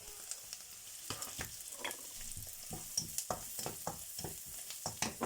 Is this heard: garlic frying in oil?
yes